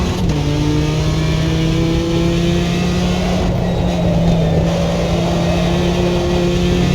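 Car engine pulling hard in third gear through a corner, a steady loud drone with rising harmonics sustained for the full seven seconds, close and alone without any voices.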